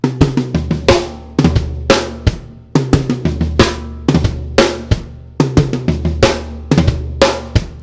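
A full drum kit plays a steady, punchy groove with kick, snare and cymbals, with quick doubled snare strokes forming a short flam fill into beat four. No voices.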